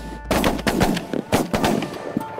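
Shotguns fire during a snow goose hunt, several sharp reports coming in quick succession, close and loud, with faint rustling between them.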